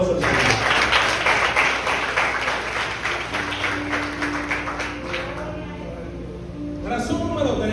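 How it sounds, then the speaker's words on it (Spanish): Church congregation clapping during a Spanish-language sermon: a strong burst of applause that fades after a few seconds into a sustained tone, with a voice returning near the end. "Den un fuerte aplauso al Señor."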